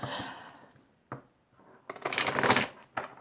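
Cards being shuffled with quick riffling bursts, a short pause, then a louder, longer riffle and a brief final flutter, close up.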